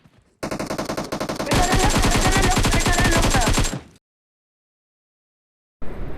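Loud automatic AKM rifle fire in the mobile game PUBG Mobile, a fast rhythmic burst that runs for about three seconds and then cuts to sudden silence. A short burst returns at the very end.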